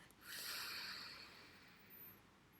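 A single sharp, airy inhale through the left nostril during pranayama breathing, close and quiet, with a rush of breath that fades gradually.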